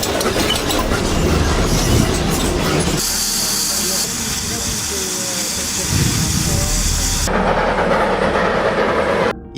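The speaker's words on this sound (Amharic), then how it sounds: "ይሄኛው ደግሞ አሁንም ስራ ላይ የሚገኘው የኩባ ባቡር" A Cuban train still in service: a loud, steady rumble with hissing and rail clatter that shifts abruptly between stretches of running noise.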